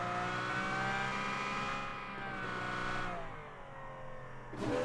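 A Pagani supercar's engine revs in PUBG Mobile, a strong steady tone that dips and rises again and surges at the end.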